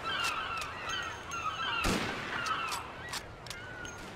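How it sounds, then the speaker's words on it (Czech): Sharp gunshots crack in the video game Mafia, one loud blast standing out among several quicker, fainter shots scattered around it. "střílí po mně"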